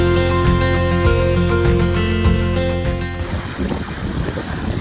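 Blustery wind roars across the microphone on an exposed Cairngorms mountainside near Ben Avon, a broad noisy rush taking over after an initial few seconds of other sound.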